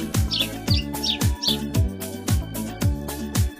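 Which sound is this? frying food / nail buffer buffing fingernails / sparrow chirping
sparrow chirping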